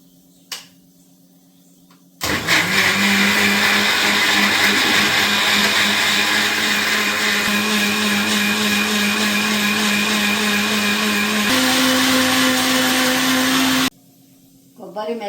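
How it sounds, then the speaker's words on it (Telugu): A mixer grinder blends coconut pieces with water for coconut milk, a loud continuous whirring roar running for about twelve seconds, its pitch rising slightly near the end before cutting off. "వీటిని మిక్సీ జార్లో వేసి"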